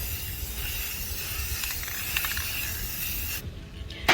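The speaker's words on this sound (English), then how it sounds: "So all you're gonna do is spray some silver in the water." A can of silver spray paint hisses steadily into a bucket of water for a few seconds, a continuous airy spray that stops abruptly near the end.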